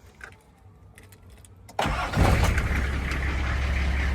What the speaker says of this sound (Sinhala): දැන් අපිට තියෙන බලන්න ස්ටාර්ට් වෙනවද කියලා. එක ෂොට් එකෙන් ස්ටාර්ට් වෙන්න ඕනේ